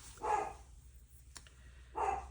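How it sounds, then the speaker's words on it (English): A dog barks indoors during a quiet crafting session: two short, moderately loud barks about two seconds apart, with soft background hiss between them. "I may have to step away if he doesn't stop barking"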